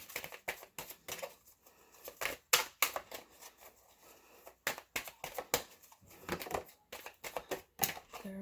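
Tarot cards being shuffled and drawn for a reading, heard as a run of close, crisp snapping and flicking bursts in irregular clusters, fairly quiet with no one speaking.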